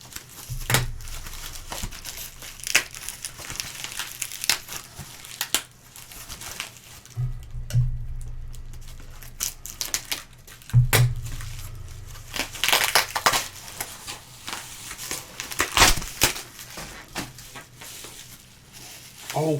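Crinkling and crushing of wrapping, with scattered snips and tearing bursts, as a package holding cassettes is cut open with a pair of old household scissors; close, irregular rustling that keeps going throughout.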